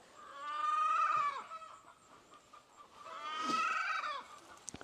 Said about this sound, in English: Sounds like the chicken drama is back.